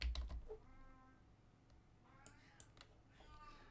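A pet cat named Astro gives a couple of soft, drawn-out meows at close range, faint under quiet computer keyboard clicks and a few sharp taps.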